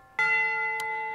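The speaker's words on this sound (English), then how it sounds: "the bell of St. SpongeBob's Church sounds like this." A single bell of St. SpongeBob's Church rings out once, a clear sustained metallic tone with strong ringing overtones that slowly fades. It sounds close and loud, with no talk.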